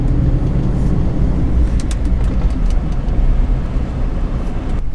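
4x4 truck running in four-wheel drive with a vibrating driveshaft, giving a steady, loud low rumble of engine and drivetrain with road noise throughout, no voices.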